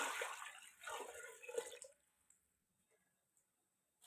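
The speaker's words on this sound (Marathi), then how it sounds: "हिथं आपण पातेल्यात पाणी ओतून घेऊ" Water is poured into a cooking pot while kurdai, a wheat recipe, is prepared. A soft, splashy trickle lasts about two seconds and then stops, leaving near silence with a few faint drips.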